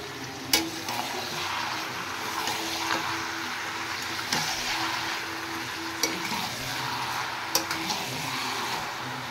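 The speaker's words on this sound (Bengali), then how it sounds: "মটনের সাথে ফ্রাই করে নেব একসাথে।" Mutton and onions frying together in a pan while being stirred, a steady soft sizzle with occasional sharp scrapes and clinks of the spoon against the pan.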